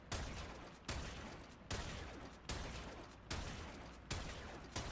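Vectis Prime sniper rifle from the video game Warframe firing six loud single shots at a quick, even pace, each crack decaying into a short tail before the next, with no voices.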